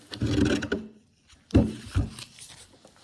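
Excess mold-making material scraped out of a container with a rasping, rubbing scrape in two bursts separated by a short pause, close and fairly loud, no voices.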